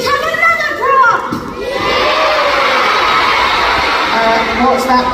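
An audience of children cheering and shouting together at a science show, a loud burst of young voices that swells and holds steady.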